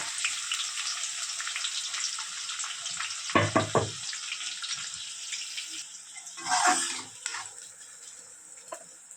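Chopped onions go into hot oil for chicken biryani, giving a steady frying hiss with a couple of bursts of louder sizzle and spoon clatter as they land and are moved around; no one speaks.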